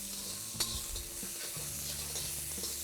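Onions sizzle steadily in a hot pan, with a soft clink of a utensil early on and light stirring scrapes.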